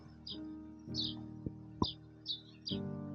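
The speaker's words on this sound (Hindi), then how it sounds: "और चिड़ियों की चहचहाट।" Several birds chirp in brief bursts by the Shyok River in Ladakh against a steady low hum, with a few soft knocks in between. The chirps are moderately close and irregularly spaced.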